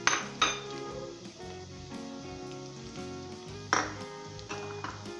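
Fried onions and ground masala go into a hot pot for shahi chholay, with a steady sizzle and frying hiss under sharp metallic clinks and scrapes of a utensil against the pan.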